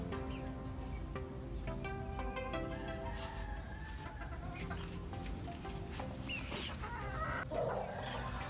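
Chickens cluck steadily and fairly close around a two-month-old chick being held, with overlapping calls from the flock continuing throughout.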